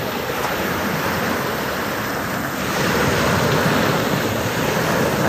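Ocean waves along the shore at Lobo, Batangas in the morning, a loud continuous wash of surf mixed with wind rumble against the microphone, swelling slightly toward the end.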